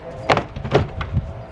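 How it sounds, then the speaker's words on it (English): Plastic clips on a Chevy Bolt interior door panel popped loose during a mirror repair, a few sharp snapping pops close by among soft handling noise. "Now we can reach under and pop the clips around the side of the door."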